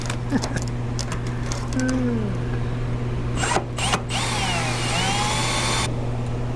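Drilling out spot welds on the body of a 1962 Chevy C10 pickup truck: short bursts of a power drill whine and grinding against sheet metal, over a steady background hum, with intermittent squeals.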